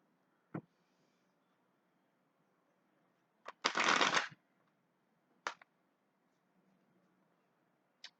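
Tarot cards being shuffled: a few brief riffles and taps, one longer burst of shuffling in the middle, the rest near silence, close and fairly quiet.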